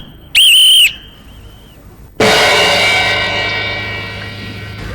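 A man gives a short, shrill two-tone whistle in a Tamil comedy drama. After a pause comes a louder, bright ringing tone that slowly fades.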